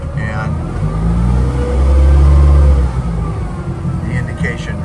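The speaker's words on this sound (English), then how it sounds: "And now you give it more throttle" A Lofin engine with a newly replaced ignition module rises in pitch and volume as throttle is added, swelling to a steady loud drone before easing back. The engine is close and fills the clip.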